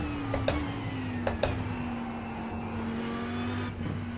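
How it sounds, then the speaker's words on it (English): A race car engine in the iRacing simulator hums at a steady pitch with brief shift blips and small throttle changes, fairly even and prominent, with no talking over it. "The car does sound pretty awesome."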